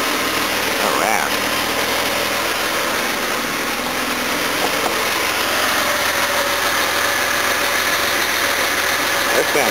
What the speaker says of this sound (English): That sounds heaps better than the old engine did.